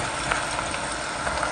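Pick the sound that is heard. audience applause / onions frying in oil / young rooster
onions frying in oil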